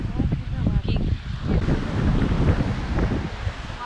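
Sea waves washing ashore at sunset on a Florida coast, a continuous low surf roar mixed with heavy wind buffeting the microphone, while someone talks over it.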